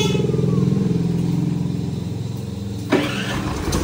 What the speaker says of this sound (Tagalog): Umaandar na yung ating generator.